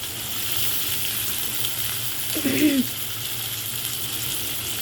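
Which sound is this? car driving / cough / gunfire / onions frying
onions frying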